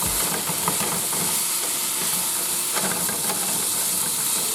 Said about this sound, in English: It's at this point I like to add the mushrooms.